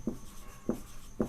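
Chalk or marker strokes on a board during a chemistry class, three short, evenly spaced scratchy taps close by with quiet between them.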